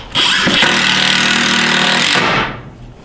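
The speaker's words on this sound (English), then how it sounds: "this is the impact driver here" A power impact driver fires up in a garage during shelving work, a loud close rapid hammering buzz held steady for about two seconds before spinning down and stopping, no talking.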